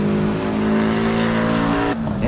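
A Porsche 718 Cayman S engine in the racing game Assetto Corsa drones loud and steady at high revs during a time attack, then the pitch drops abruptly near the end before climbing again.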